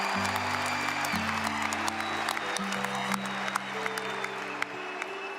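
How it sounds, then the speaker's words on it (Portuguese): Church congregation applauding for Jesus during a sermon, steady clapping mixed with sustained organ or keyboard chords throughout. "uma salva de palmas para Jesus"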